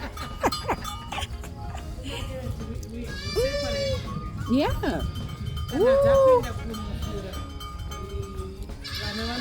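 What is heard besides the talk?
baby goats bleating in maternity pen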